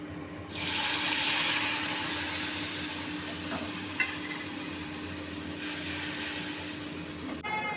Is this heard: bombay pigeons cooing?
no